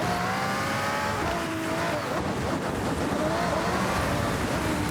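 Audi rally car racing through a snowy area in Forza Horizon 6, its engine a steady, loud drone with shifting pitch that runs alone throughout, hinting at tyre noise on the surface.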